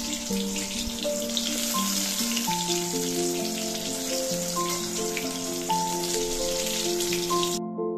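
Salted, turmeric-rubbed brinjal slices fry in oil in a wok, a steady, close crackling sizzle under background music, ending abruptly.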